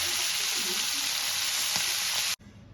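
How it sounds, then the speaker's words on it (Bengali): Marinated shrimp fry in mustard oil in a wok with a loud, close, continuous hiss and sizzle and a few faint crackles, then it drops abruptly to a quiet background near the end. "এবার ম্যারিনেট করা চিংড়ি মাছগুলো হালকা লাল করে আমি ভেজে নেব"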